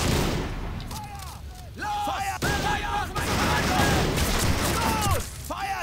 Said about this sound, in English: Now my machine gun guy can open fire on them.